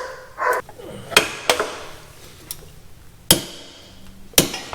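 A torque wrench tightens the rear axle on a 2006 Harley-Davidson Road King, giving several sharp, close metallic clicks spaced irregularly over a few seconds, with light handling noise between them.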